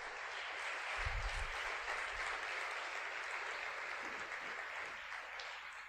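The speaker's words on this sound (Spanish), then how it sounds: "Denle un fuerte aplauso al Señor" A church congregation at a Spanish-language service claps in a steady, fairly quiet round of applause, with a few low thumps early on.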